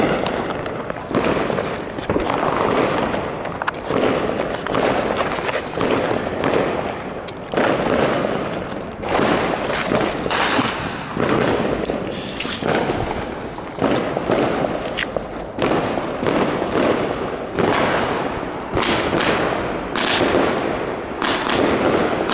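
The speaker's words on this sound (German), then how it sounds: "jetzt am Start für euch die Powerbox von Vekofeuerwerk. 100 Schuss mit angeblich 50 Sekunden Brenndauer und 25 Meter Höhe" WECO Power Box firework battery firing its 100 shots: a loud, close, unbroken barrage of rapid cracking bursts and bangs running the whole length, with no talking.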